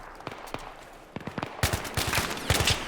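Video game gunfire in Battlefield 3: scattered gunshots build into dense, rapid bursts of automatic fire, loud and close, with crackling shots overlapping toward the end.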